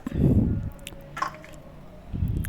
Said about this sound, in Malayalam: ഒരു കപ്പ് വെള്ളം അതിലേക്ക് ഒഴിക്കുക